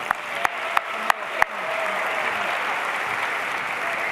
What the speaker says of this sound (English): A final round of applause and for our amazing speakers.